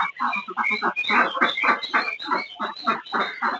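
Loud, rapid honking quacks from a group of 64 egg-laying ducks, close by, overlapping continuously with no talking.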